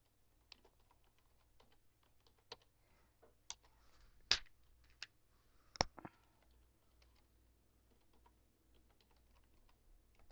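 Computer keyboard typing: scattered key clicks with a few sharper, louder strikes, irregular in rhythm and fairly quiet over a low steady hum, with no talking.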